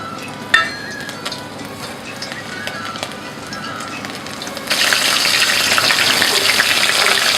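Python meat in tempura batter drops into hot oil and bursts into a loud, steady frying sizzle that continues to the end, following a quieter stretch of faint crackling and small clicks.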